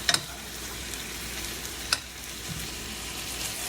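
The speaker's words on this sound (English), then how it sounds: "you just keep basting" Steak au poivre sizzles steadily in a hot pan while being basted with fat, a dense crackling hiss throughout, punctuated by a few sharp spoon clinks against the pan at the start and midway.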